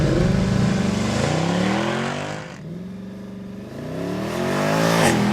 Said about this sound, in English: I'm just going to roll on the throttle with my right and lift off the brake.